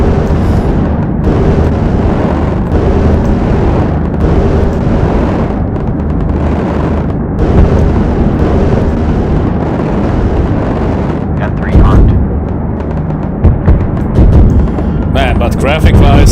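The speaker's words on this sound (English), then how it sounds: "you don't hear the explosions instantly, but it requires for the sound to arrive." Heavy, continuous rumbling barrage of explosions and gunfire from AC-130 gunship weapons in the video game Project Gunship, loud and dense throughout, with sharper blasts near the end and speech faintly mixed in.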